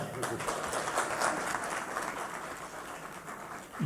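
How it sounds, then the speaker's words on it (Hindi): A crowd at a Bihar election event claps loudly and steadily, a dense wash of hand claps with voices mixed in, tapering slightly toward the end. "जोरदार तालियां"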